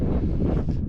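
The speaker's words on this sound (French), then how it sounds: "il y a encore du vent" Wind in the Atlas Mountains buffeting the microphone, a brief loud rumbling gust with no voices.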